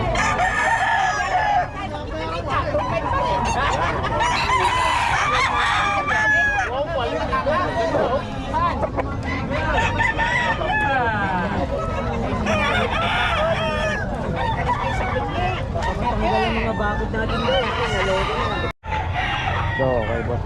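Chickens and roosters crow and cluck steadily throughout, loud and close, with crowing calls rising over a constant busy backdrop and faint human chatter mixed in.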